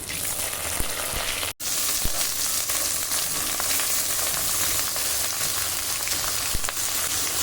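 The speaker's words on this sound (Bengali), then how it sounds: "ফোড়ন খুব ভালো করে ভেজে নিয়েছি কেটে রাখা কাঁঠাল দিয়ে দিচ্ছি" Cut ripe jackfruit fries in a pan with five-spice tempering and bay leaf, producing a loud, dense, continuous sizzle up close, briefly cut off once, with faint stirring ticks and no talking.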